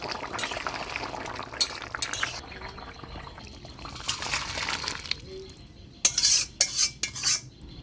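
A pot of thin puti-fish curry with potato and squash is lifted off a kitchen stove. Soft simmering and stirring give way to a few sharp metal clanks and scrapes near the end.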